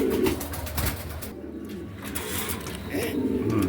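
A pair of white Bombay pigeons coo close at hand in soft, repeated throaty rolls over a low background murmur.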